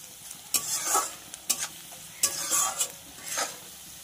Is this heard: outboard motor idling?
no